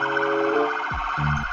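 A toy ambulance siren wails in short electronic tones, a steady two-tone pattern that breaks into rising chirps, close and clear with no talk.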